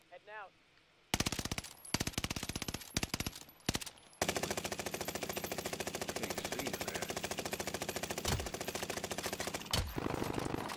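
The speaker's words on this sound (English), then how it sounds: "There was somebody over here shooting." Rapid, sustained automatic gunfire in a multiplayer shooter video game: a few short opening bursts, then a long continuous volley of shots, loud and close, with brief pauses near the end.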